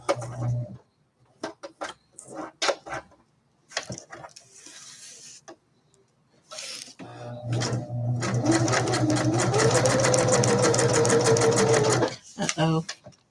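A sewing machine runs in bursts while someone does crafts, with a steady motorised stitching whir that lasts about five seconds. Short clatters come before it, and a person talks in the pauses.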